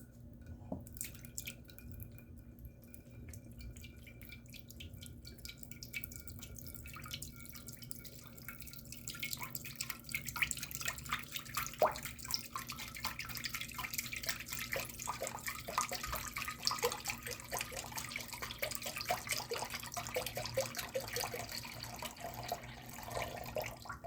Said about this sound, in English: We're gonna start out with some beef broth here.